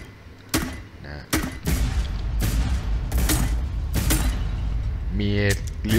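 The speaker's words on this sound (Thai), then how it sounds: "ปืนยิงระเบิด" Booming grenade launcher shots in a video game built with Core Game Engine fire in a steady series of loud, punchy blasts with mechanical clanks between them, and a voice speaks briefly near the end.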